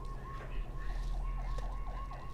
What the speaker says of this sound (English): now there's sirens going